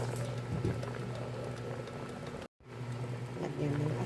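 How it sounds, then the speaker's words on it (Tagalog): Mung beans for ginisang munggo simmer in a covered pot with tomatoes, a steady close bubbling and gurgling that drops out for a moment partway through. "Tatakpan na natin at pakukuluan."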